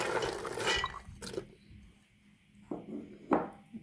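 Water is poured from close by into a cooking pot of meat and chickpeas for harira soup, coming as a few short splashing bursts with quiet gaps between them.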